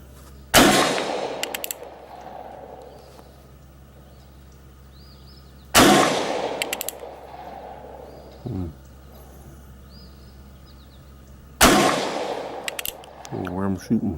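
Colt Single Action Army revolver in .44 Special fired at steel targets 25 yards away outdoors: three sharp, loud shots spaced about five seconds apart, each trailing off in a short echo, with faint birds and a quiet voice between.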